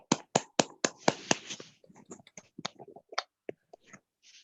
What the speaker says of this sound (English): Let's clap for the Lao Shi.